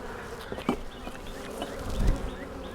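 Honey bees buzzing around an open beehive during an inspection, a soft steady hum with a few closer passes and brief louder moments, no talking.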